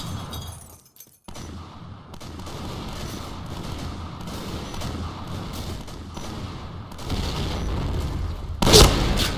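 Grenade blasts and gunfire in a tactical shooter game, with a sustained crackle of rapid shots and rumbling booms, ending in a sharp loud explosion near the end.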